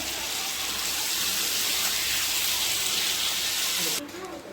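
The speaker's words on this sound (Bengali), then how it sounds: "সব লাল লাল করে বেশি ভালো যাবে না, হালকা একটু ভাজতে হবে।" Prawns and spices sizzle lightly in hot oil in a kadai, a loud, steady hiss close by that drops off sharply near the end.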